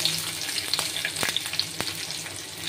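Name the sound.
paneer spices tempering, sizzling in hot white oil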